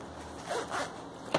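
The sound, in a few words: zipper on sewn waterproof oral hygiene pouch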